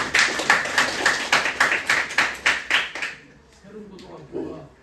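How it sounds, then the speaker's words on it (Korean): An audience at a high school admissions briefing claps in a steady, rhythmic unison beat of about ten sharp claps, then stops and a voice is faintly heard. "박수 한번 세게 쳐주실까요?"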